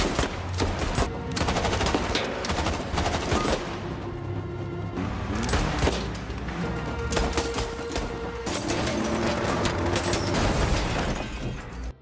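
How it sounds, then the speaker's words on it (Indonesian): Rapid bursts of gunfire from a film shootout between police and mafia, dense overlapping shots and booms over a loud continuous score of music and effects. "Baku tembak pun kembali terjadi."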